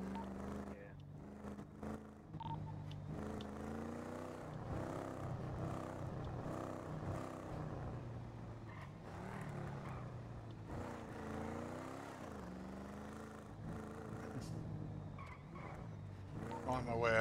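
A car being driven in GTA V on a FiveM roleplay server gives a steady, rising and falling engine drone with bursts of tire skidding that runs the whole time and never drops away.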